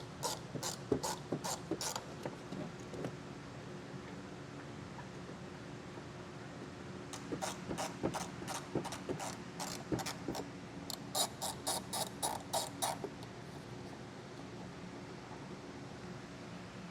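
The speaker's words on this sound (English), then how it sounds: "I got a 10mm socket, and I'm going to go ahead and remove these two nuts that's holding the carpet to the wheel well." A 10mm socket on a ratchet clicks in quick bursts of pawl ticks while nuts are removed inside the wheel well of a 2018 Audi Q5, close and fairly quiet, with soft rustling between the bursts.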